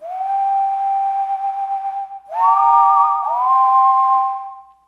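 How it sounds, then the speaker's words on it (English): Clean, bright sampled human whistling: one long sustained note, then a brief break and a layered pair of sustained whistles sounding together, clear and close. "And each whistle kind of has its own little performance."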